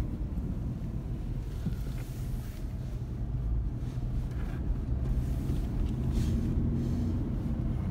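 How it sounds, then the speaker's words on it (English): A 2008 Ford Ranger 2WD with a 5-speed manual gearbox rolls downhill in second gear, giving a steady low engine and road rumble with wind buffeting heard from inside the cab, no voices. "I'm just in second gear here, going down a bit of a hill."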